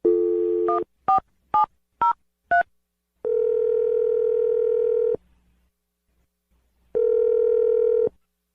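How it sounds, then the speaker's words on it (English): A telephone number being dialed on a landline for a radio show call: five short tone beeps in quick succession, then two long ringback tones separated by silence, clear and isolated. "I'm going to dial the number."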